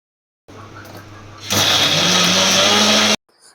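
An electric mixer grinder blends ginger-garlic paste for mango pickle, starting with a steady whir that jumps to a louder, harsher grinding roar for about a second and a half before cutting off.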